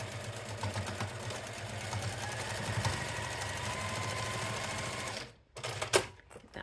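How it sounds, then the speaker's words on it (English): Sewing machine stitching a quarter-inch seam through fabric and fusible interfacing, a fairly quiet steady rhythmic hum that cuts off near the end, followed by a few clicks. "I'm going to sew this down at 1/4 inch"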